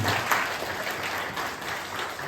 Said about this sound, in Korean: 박수 한번 주세요, 준성이